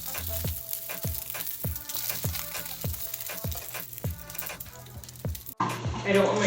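Garlic sizzles in a pan, a steady crackling fry punctuated by regular soft knocking or stirring taps, then ending in a sudden burst of hissing splash.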